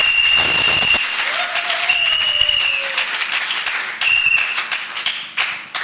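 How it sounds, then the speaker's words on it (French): A church congregation at a Sunday service applauds loudly, a dense sustained wash of many hands clapping at close range, with whistles or shouts rising above and the clapping thinning toward the end. "Acclamez très fort pour le Seigneur."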